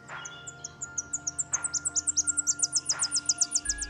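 A Tennessee warbler sings in a forest, a run of sharp high chips that accelerates into a loud, rapid staccato trill, with faint lower calls from other birds behind it.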